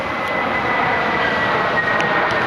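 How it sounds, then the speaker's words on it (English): An airplane passing overhead outdoors, a steady broad engine roar holding at an even level for the whole stretch, moderately loud with no talking. "Oh, there's a plane"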